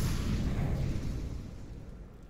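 An incendiary grenade burns in CS:GO on the Train map, a steady low roaring rumble held close and loud that eases slightly toward the end.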